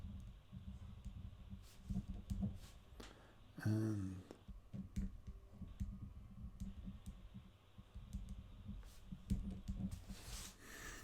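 Light, rapid clicking of computer-keyboard keys runs steadily throughout as a quick note is typed during a live stream, faint and close, with a brief louder thump partway through.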